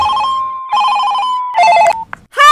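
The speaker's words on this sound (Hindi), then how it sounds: "मेरे भाई का फोन आया है" A telephone rings loudly and close by in repeated electronic trilling bursts with brief gaps, the last burst cut short.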